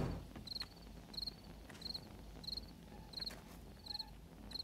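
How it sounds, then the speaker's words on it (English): Insect buzzing from a bee in the 7 Days to Die video game, short high-pitched buzzy bursts repeating roughly every 0.7 seconds over a low ambient rumble, faint and alone with no talk. "It's a bee."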